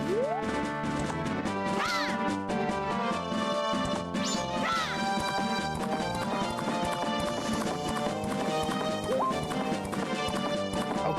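Galloping horse hooves in a video game, a steady rapid clip-clop running continuously under layered game music, loud and close throughout.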